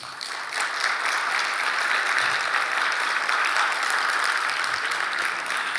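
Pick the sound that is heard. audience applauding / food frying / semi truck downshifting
audience applauding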